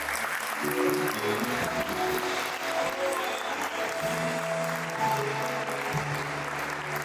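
A church congregation applauds during worship, dense continuous clapping filling the room at an even level throughout, with faint tonal music or voices underneath.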